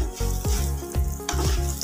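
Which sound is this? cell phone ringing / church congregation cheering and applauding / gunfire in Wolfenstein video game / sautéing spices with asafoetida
sautéing spices with asafoetida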